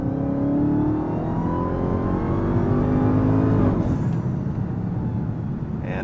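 Dodge Charger Hellcat King Daytona accelerating hard, its engine roaring loud and steady from inside the cabin, the pitch climbing then dropping sharply at a quick gear shift before building again.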